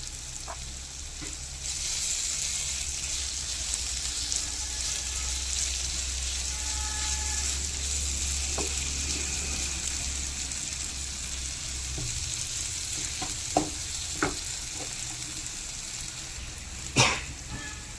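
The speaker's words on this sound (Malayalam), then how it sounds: "ഇനി ഇതൊന്നും കൂടെ നല്ലപോലെ നമുക്ക് ഇളക്കാം." A mango pickle mixture fried and stirred in a pan, giving a steady, close hiss of sizzling oil throughout, with a few soft scraping clicks of the stirring spoon near the end.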